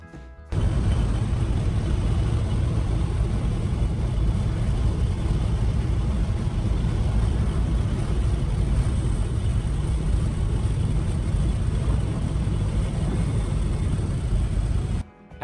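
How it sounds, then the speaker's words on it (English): A Porsche 914 drives steadily back to the workshop, its engine droning at a constant, loud level with broadband road and wind noise throughout, no talking. "we drove the car back to our workshop"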